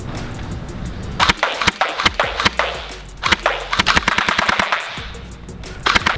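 Rapid bursts of loud, sharp shots from a Silverback gel blaster with a nylon gearbox, fired through a chronograph, come in quick automatic strings with short pauses between them.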